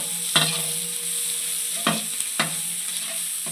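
Curd poured into sizzling biryani masala in a pan and stirred, a steady fry hiss broken by three sharp stirring scrapes.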